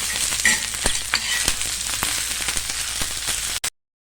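Ingredients for garlic ambadi kharda roasting in a pan, with a dense, loud crackling sizzle and irregular taps and scrapes of stirring, close by, ending abruptly in silence.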